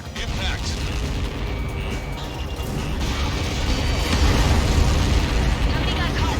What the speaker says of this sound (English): Nobody got caught in that explosion.